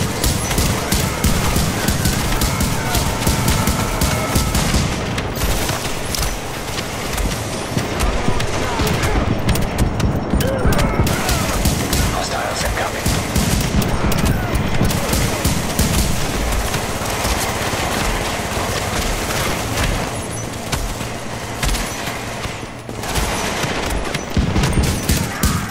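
Dense, continuous rapid gunfire from turrets in the shooter game The Division, loud and relentless, with brief dips and bursts layered throughout.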